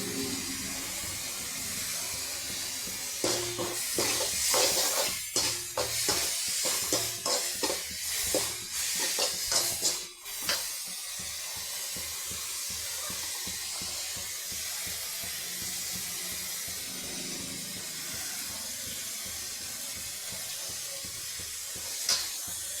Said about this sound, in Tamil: வெங்காயம் தக்காளி நல்லா வதங்கட்டும்